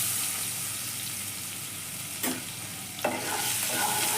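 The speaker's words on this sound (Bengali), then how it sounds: "এই তেলের মধ্যেই আমি দেব কিছুটা রসুন বাটা" Garlic paste hisses and sizzles in hot oil left over from frying eggs for an egg curry, with a steady crackle and a few sharp spatters or spoon knocks near the end.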